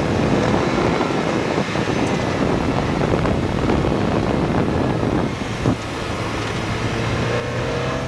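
Club racing cars run an autocross course, giving a steady, loud broadband roar of engines and rushing wind with no clear gaps, the noise dipping slightly near the end.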